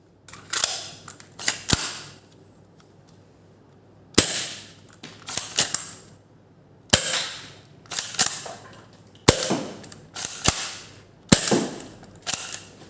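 A ZWQ S200 FireRat toy blaster fired with its stock magazine, giving loud, sharp snapping shots in quick clusters with mechanical slide clacks between them, about a dozen in all, with no talk.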